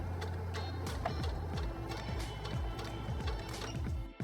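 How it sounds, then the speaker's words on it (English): A Singer 6805C sewing machine stitches at low speed, giving a close, steady mechanical hum with a regular ticking rhythm of needle strokes that runs throughout. "Bring it down low and press the button here to start sewing."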